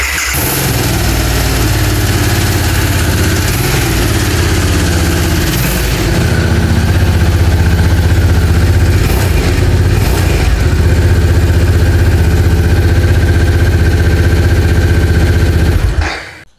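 A Harley-Davidson Sportster S 1250 motorcycle with heat-shielded exhaust rumbles loudly and close at idle, with a couple of throttle blips swelling the deep exhaust note midway before it cuts off abruptly at the end.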